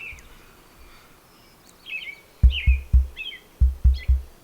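Swainson's thrushes and song sparrows sing in short whistled phrases at moderate distance in a springtime dawn chorus, with a series of low thumping knocks near the end.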